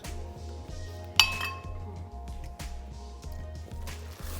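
A spoon stirs a beans and beef stir fry in a pan, giving a loud metallic clink followed by lighter scraping clinks over a steady low cooking hum.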